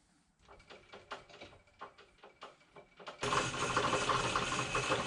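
Clicking, ratcheting mechanical noises from a metal shaper's adjustment mechanism as its step-over knob is turned, followed by a steady louder whir of the machine running.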